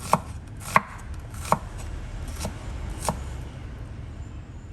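Knife dicing onion on a cutting board, a few sharp thuds spaced unevenly, with a soft rustle between strokes; close and fairly quiet.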